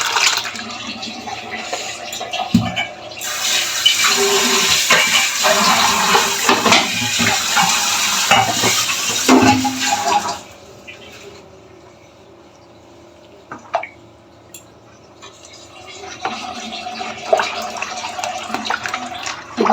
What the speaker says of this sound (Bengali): আমি ধুয়ে একটু জল দিয়ে দিই